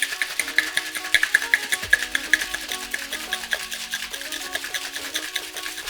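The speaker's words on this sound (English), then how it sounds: "Now we shake our cocktail to mix it, to chill it, and to dilute it." A cocktail is shaken in a shaker, a steady rhythmic rattle of ice knocking and scraping inside the tin, close and fairly loud, with a faint musical tone underneath and no talk.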